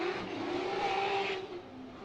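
Subaru BRZ drift car at a Formula Drift event in New Jersey, its engine revving hard in a loud sustained wail with some tire noise, easing off near the end, heard from moderate distance without speech.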